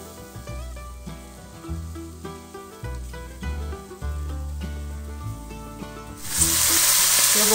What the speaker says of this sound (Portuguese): Eu vou refogar o frango no alho e na cebola.